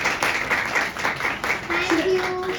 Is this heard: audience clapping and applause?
yes